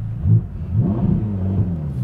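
Ferrari Roma engine idling at a standstill, a steady low rumble with slight swells in level, close and continuous for about two seconds with no talk.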